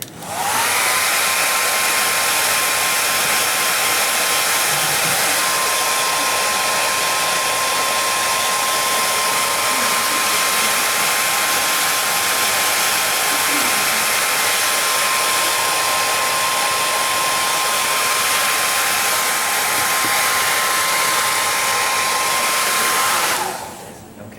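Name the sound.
hair dryer drying watercolor paint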